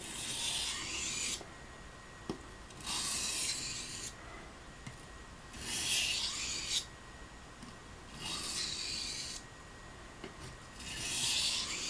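Gunstock bone blade being sharpened on water stones, steady rasping strokes in repeated bursts of roughly a second each, separated by short pauses, close and alone with no voices.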